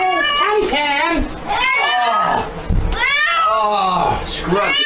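A cat being washed with soap in a shower meows and yowls repeatedly in long, loud, drawn-out cries, mixed with a person talking to it.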